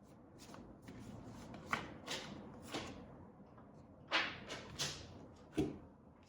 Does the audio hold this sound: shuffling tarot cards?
yes